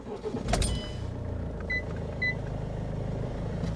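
A car engine cranks and starts after a power steering flush, with a brief clattering catch followed by a steady low idle hum that continues under a few faint high electronic chirps, with no talking.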